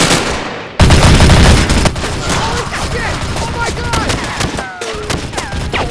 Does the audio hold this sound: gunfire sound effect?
yes